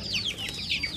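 High-pitched peeping and chirping from young chickens, repeated quickly and fairly close, with faint low background noise.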